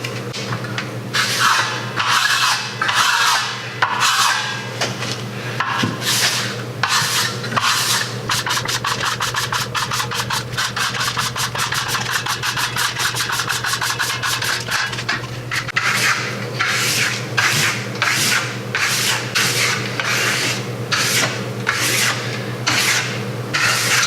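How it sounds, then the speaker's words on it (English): Trowel or pad burnishing a freshly applied Variance Venetian plaster alternative coating on a wall: loud rhythmic rubbing strokes, at first in distinct separate passes, then a fast continuous scraping run, then separate strokes again, close to the microphone with no talking. "Now I'm going to do what's called burnishing it and show you what happens."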